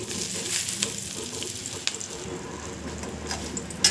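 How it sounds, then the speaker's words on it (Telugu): Curry leaves crackle and sizzle in hot oil, a continuous fry with scattered sharp pops and the scrape of stirring, fairly close and moderately loud. "ఇప్పుడు ఈ కరివేపాకుని మిగతా ఈ ఆయిల్లో వేయించుకోవాలి"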